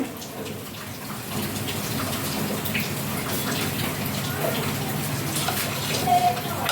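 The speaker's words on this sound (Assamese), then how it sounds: "এইখিনি আমি একেলগে পানী অকণ দি পেলাই গুলি লওঁ।" Water is poured and mixed into ground spices, including Kashmiri red chili powder, for a Rajasthani onion curry. A steady gushing, splashing pour runs for several seconds at close range, with a small clink near the end.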